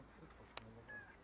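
A black cat gives one short, faint meow near the end, preceded by a brief click and soft room noise.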